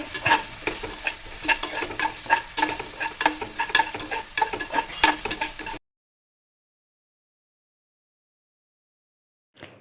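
Ingredients for Chettinad mutton kulambu sautéed with rock salt, a lively close sizzle with rapid, rhythmic spoon scrapes for about six seconds before the sound cuts to silence.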